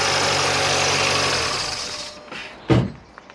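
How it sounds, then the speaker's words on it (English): Mini Cooper R50 engine idling with a steady broadband drone that cuts out after about two seconds, followed by a brief louder clunk and faint settling noises near the end. "What I'll do, I'll stop the engine really quickly."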